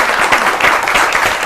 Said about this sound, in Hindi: एक बार जोरदार तालियां बजाइए ममता जी के लिए